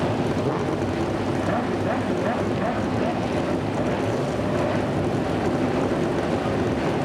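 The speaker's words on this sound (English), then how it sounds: "There are the cars now all fired up and ready to go." Sports prototype race cars at Portland idle and rumble together before the start, a steady, dense engine drone heard from a distance.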